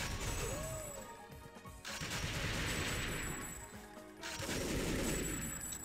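Rapid bursts of gunfire from shooting in the video game TimeSplitters, loud and close, with clattering crashes mixed in across the stretch.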